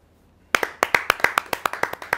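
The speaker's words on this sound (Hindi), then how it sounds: "एक बार उनके लिए स्वागत कीजिए, तालियां बजाइए" Audience at a Hindi poetry gathering breaks into clapping after a short silence, about a dozen distinct, fairly sparse claps at a steady rhythm, close and clear.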